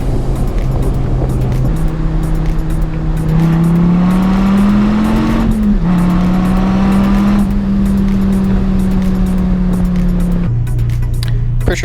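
A Dodge Viper's V10 engine rumbles loudly and close on a road in Mexico. Its deep drone holds steady, then rises as the car revs up, dips briefly, and settles again, with no voices over it.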